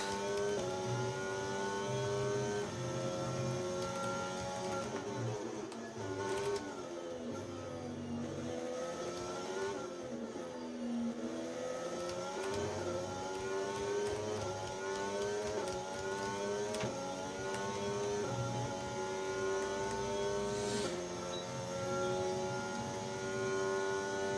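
Formula 1 cars, including a Ferrari, scream past in a racing video game during French Grand Prix qualifying, their high engine whines rising and falling through shifts and corners over an unbroken stretch.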